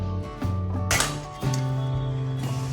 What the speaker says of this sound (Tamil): சில்வர் தட்டில் இது மாதிரி போட்டோம்னா கல் மாதிரி சத்தம் கேட்கணும்.